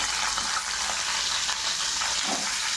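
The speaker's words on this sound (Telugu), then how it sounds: "బాయిల్ చేసిన ఎగ్ అదే ఆయిల్లో వేసుకోవాలి" Boiled eggs fry in hot oil in a pan, giving a dense, continuous loud sizzle with crackling and spitting close by, with no talking.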